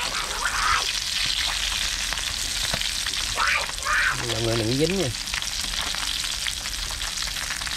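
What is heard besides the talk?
fish frying in hot oil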